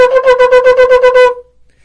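A shofar sounding the teruah as a string of broken short blasts, about nine quick, even pulses of a loud, close, brassy horn tone, then stopping abruptly into silence.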